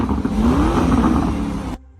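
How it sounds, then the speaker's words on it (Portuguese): Lamborghini Urus with an aftermarket turbo-back valved exhaust revving up, a loud close engine roar rising in pitch and then cutting off sharply at the end. "Esse é o escapamento do Urus."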